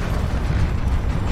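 Hidden passage grinding open in Hogwarts Legacy, a continuous low rumbling of heavy stone shifting, loud and sustained without pause.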